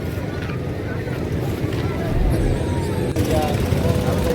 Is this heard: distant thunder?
no